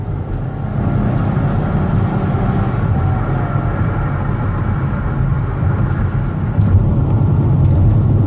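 A 2016 Dodge Caravan SE wheelchair van with 86k miles accelerates on the highway, its engine droning steadily under heavy road and wind noise from inside the cabin.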